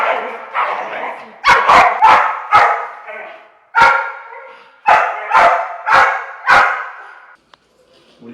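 A dog named Miggs, trained to switch aggression on and off, barks in sharp loud bursts, about nine close barks in an uneven run, with a brief pause midway and quiet at the end.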